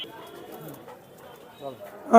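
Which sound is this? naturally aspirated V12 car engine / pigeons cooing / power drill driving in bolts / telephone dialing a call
pigeons cooing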